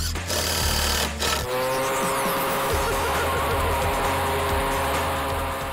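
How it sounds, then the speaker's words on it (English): Powered drilling of post holes for a sunset deck, a loud, steady mechanical drone with a low engine rumble that runs unbroken for several seconds, with no talk. "and then drilling the post holes"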